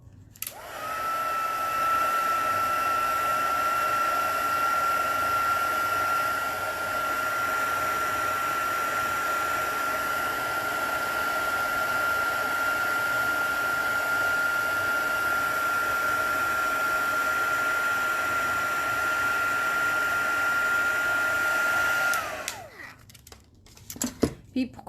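A heat tool blows hot air over embossing powder on paper for a card, making a loud, steady whirring hiss with a high whine. It runs for about twenty seconds before switching off, and a voice talks during it.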